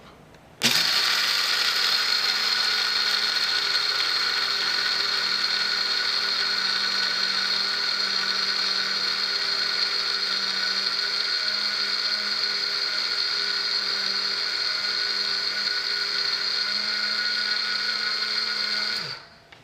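A blender grinds oats and flaxseed into flour, a loud steady high-pitched whir that starts abruptly, holds without a break for about eighteen seconds, then cuts off.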